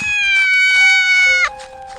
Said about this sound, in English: unable to find the source for all of the meowing that they were hearing